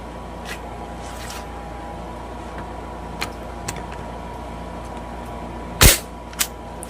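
One sharp, loud crack of an air rifle fired at about 440 fps stands out above a steady background hum, followed shortly by a quieter snap, with a few faint clicks earlier.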